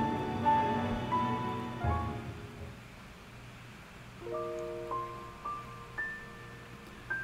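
Steady rain falls in a continuous soft patter. Gentle, sparse musical notes play over it.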